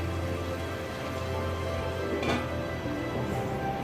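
Mutton liver curry (khasir kolija bhuna) simmering on a stove on low heat gives a steady, soft sizzle and bubbling hiss that continues evenly throughout with no talk.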